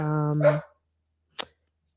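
A pet dog gives a single sharp bark, loud and close, right after a short stretch of indoor talk, then silence follows.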